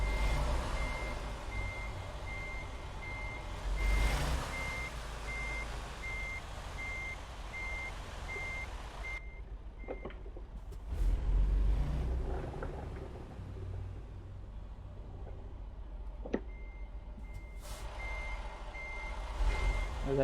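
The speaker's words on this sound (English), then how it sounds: "we look like an amateur backing this truck up" A truck backing up in American Truck Simulator, with steady repeated reversing beeps over a low engine rumble. The beeps pause briefly and then resume, and there is no talking.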